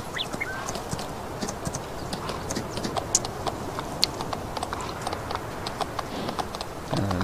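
Horse hooves clip-clopping in Farming Simulator 19: a steady, even stream of sharp clicks that carries on for several seconds over a constant low background bed, with no voices.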